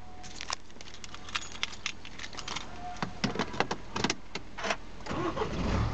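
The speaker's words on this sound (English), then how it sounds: "Vehicle starts nicely." A diesel MINI Countryman Cooper D is started from inside the cabin. Scattered clicks and clunks come first, then the engine cranks and settles into a low, rising rumble near the end, close up.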